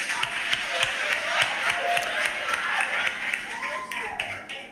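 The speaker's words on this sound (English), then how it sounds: "Let's give them a round of applause." A crowd claps together in dense, steady applause that fills the whole stretch, with voices mixed in underneath.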